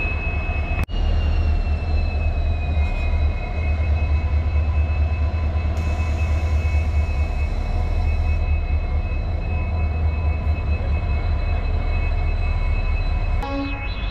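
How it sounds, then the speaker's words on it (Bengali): A WDG4 diesel locomotive sits coupled to the weekly Rameswaram to Bhubaneswar express, giving a loud, steady, close engine rumble with a sustained high tone above it and a sharp click near the start, without talk. "এটি হলো একটি ডিজেল লোকোমোটিভ WDG4"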